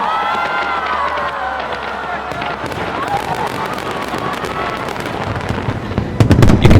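Fireworks launched from a barge on the river in Chongqing for a New Year celebration, a steady crackling roar of bursts with louder bangs near the end, heard at a distance over a large murmuring crowd.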